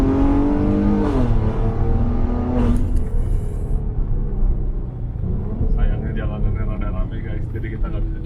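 A modified Maserati Quattroporte accelerates, its engine rising in pitch through a revving pull, then settling into a deep throaty rumble heard from inside the car, with someone talking over it.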